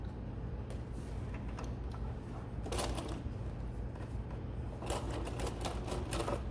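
Sewing machine stitching a hem on custom drapery, giving quick clicking mechanical bursts over a steady low motor hum, with busier runs near the middle and at the end.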